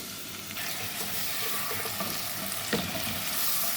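Garlic and fenugreek frying in hot oil, a steady dense sizzle that holds throughout at moderate loudness, with a few faint clinks of a utensil stirring the pan.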